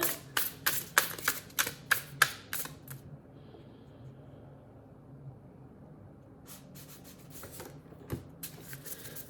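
A deck of tarot cards being shuffled nearby in quick riffling bursts, then a pause of near silence before more shuffling resumes toward the end.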